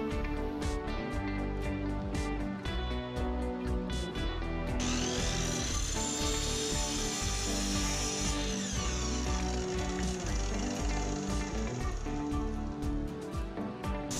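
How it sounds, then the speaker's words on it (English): A round router bit cuts a groove into the top of a clamped wooden blank meant to become a stud finder, giving a steady, loud, continuous whine with rattling mechanical clicks and no talking. "I'm using this round router bit to shape a groove into the top side of the soon-to-be stud finder."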